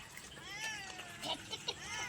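A cat meows a few times at home, faint and drawn out, with a couple of soft knocks in between.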